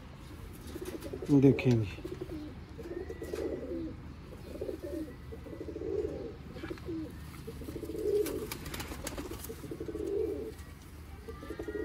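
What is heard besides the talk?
pigeons cooing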